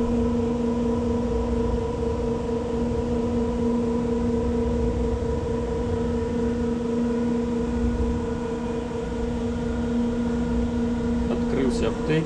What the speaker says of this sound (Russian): Клапан открылся, вентилятор запустился.